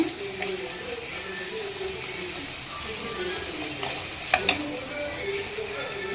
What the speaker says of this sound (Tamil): கொஞ்சமாக இஞ்சி பூண்டு பேஸ்ட்டு போட்டு அதுவும் நல்லா வதங்கினோடனே